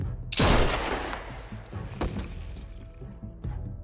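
A gunshot from The Walking Dead video game rings out loudly as one sharp blast with a fading tail, followed by quieter thuds and a smaller shot-like crack near the end.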